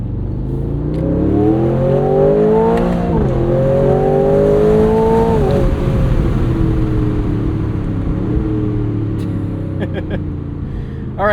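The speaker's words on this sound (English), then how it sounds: "I love a good pop and or burble" Engine of a 2026 Aston Martin Vantage S roadster with a 670hp V8, revving and rising in pitch with a loud, continuous exhaust drone and a few faint crackles near the end.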